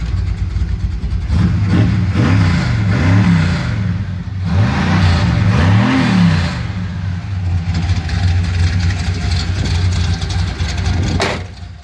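A 1979 Chevy C10 pickup truck engine idles loudly nearby, revving up and down several times in rising and falling surges before settling back to a steady rumble.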